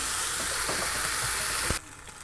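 Eggplant, tomato pieces and curry leaves fry in a pan with a steady, close sizzle that cuts off abruptly near the end, leaving a quieter hiss.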